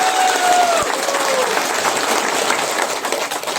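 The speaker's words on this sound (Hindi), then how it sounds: "एक बार जोरदार ताली बजा" A crowd at a BJP political rally in Tura, Meghalaya, bursting into loud, sustained applause that fills the space, with a faint voice briefly audible beneath the clapping.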